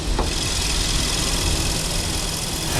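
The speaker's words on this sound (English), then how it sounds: "You can hear that it's idling nice." A 2011 Infiniti M56x with 125,000 miles idles steadily up close, a constant even rumble with no talk over it.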